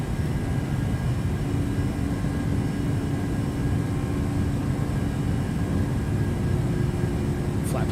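Steady broadband rumble of a PMDG 737-700 airliner climbing after takeoff in Microsoft Flight Simulator, continuous and even throughout with a faint tonal hum over the engine roar.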